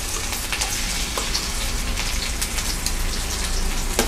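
Garlic and asafoetida fry in hot oil for a dry potato, pea and carrot dish, giving a steady, dense sizzle with crackling pops throughout and no voices.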